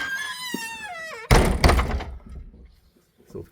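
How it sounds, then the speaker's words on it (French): A door slams shut with a loud, heavy thunk followed by a second knock and rattle, after a rising whistling tone; a quiet, roomy tail follows. "Je vais fermer la porte."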